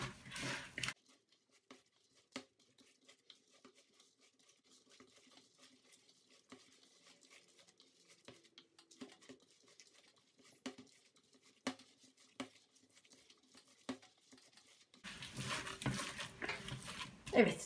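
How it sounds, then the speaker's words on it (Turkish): Stuffed pepper filling with garlic being kneaded by hand with a little added water, giving soft, faint wet squelches and pats scattered through a quiet kitchen, with louder handling noise at the start and end. "Şimdi birazcık su ilave ederek dolma içimi yoğuruyorum."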